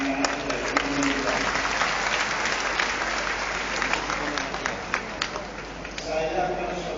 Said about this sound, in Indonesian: tepuk tangan untuk anak-anak dari Indonesia